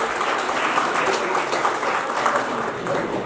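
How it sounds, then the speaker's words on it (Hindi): Audience applause greeting a guest coming onto a stage at an event, a steady, moderately loud wash of clapping heard alone for a few seconds. "एक बार जोरदार तालियों के साथ अभिनंदन करें लखन शर्मा जी।"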